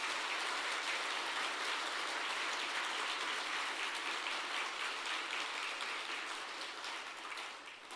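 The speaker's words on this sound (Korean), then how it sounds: "수상자분들께 다시 한번 아낌없는 박수 부탁드리겠습니다." An audience at the Samsung Ho-Am Prize awards ceremony applauds the winners, a broad, steady wash of clapping from a large hall that gradually fades in the last couple of seconds.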